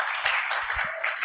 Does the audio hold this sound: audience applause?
yes